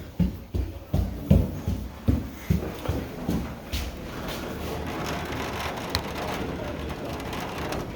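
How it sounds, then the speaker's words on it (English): Heavy rain during a severe November storm pours in a steady loud wash, opening with a series of rhythmic thumping bursts before settling into constant downpour noise. "This rain is insane."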